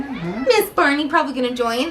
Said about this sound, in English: As you can hear the kitty meowing.